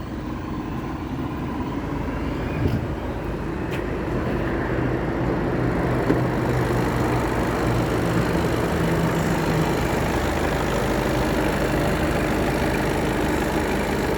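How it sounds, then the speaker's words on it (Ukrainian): A 2018 Skoda Octavia A7 engine idles steadily, a smooth, continuous low rumble heard up close with no other sounds over it. "покажемо вам двигун, як він працює"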